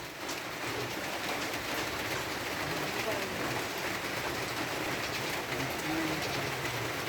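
Steady, dense rain hisses without a break, an even wash of drops drumming on a surface throughout.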